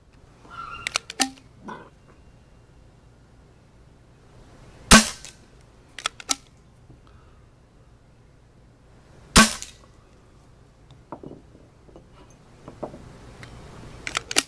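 Vintage Nelson pump action stock class paintball gun on a 12 gram CO2 cartridge, firing several sharp, loud, close shots with pump clicks and handling noises between them, spaced irregularly with quiet gaps.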